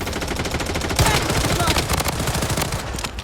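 Rapid automatic M4A1 rifle fire in the video game Blood Strike, loud and continuous bursts of closely spaced shots. A soft rattle of other game sounds sits underneath.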